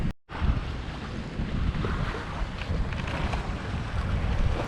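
A sailboat under sail with no engine running on the open Atlantic Ocean, heard as steady broadband wind and water rush with waves against the hull, loud and continuous after a brief dropout at the start.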